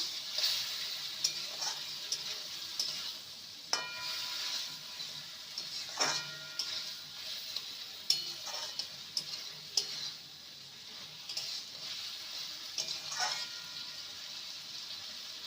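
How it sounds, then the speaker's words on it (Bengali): Fried potatoes and okra are stirred with spices in a hot pan for a fennel okra curry, giving a steady close sizzle broken by repeated sharp spatula taps and scrapes against the pan. "এবারে ভেজে রাখা আলু আর ভেন্ডিকে দিয়ে দেবো ভালো করে মশলার সাথে কষিয়ে নেবো"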